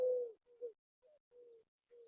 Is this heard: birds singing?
yes